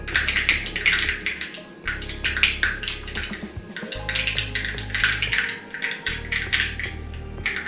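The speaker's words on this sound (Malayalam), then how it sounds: "കടുക് പൊട്ടി തീരാറായി." Mustard seeds pop and crackle in hot oil, a dense run of sharp clicks and spatters against a low steady hum, as the popping nears its end.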